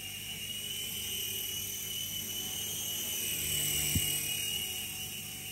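A T2M Spark SX radio-controlled helicopter flies in mode 2, its high rotor and motor whine holding steady and fairly faint at a moderate distance, with no one talking.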